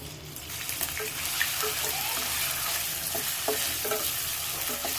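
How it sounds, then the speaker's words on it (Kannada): Paneer pieces frying in hot oil in a pan, a steady close sizzle with scattered crackles and pops running throughout, no voices. "ಈಗ ಎಣ್ಣೆ ಬಿಸಿಯಾಗಿದೆ, ಪನ್ನೀರ್ ಹಾಕ್ಕೊಂಬಿಡೋಣ"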